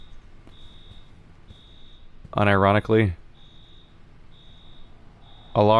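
Repeated short electronic beeps from a security system alarm in the video game INFRA, evenly spaced and fairly faint, sounding in the background as someone talks over them.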